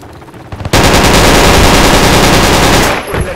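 Sustained automatic gunfire in the military shooter game Project Reality, a loud, dense burst of rapid shots lasting a few seconds before cutting off, with quieter sounds just before.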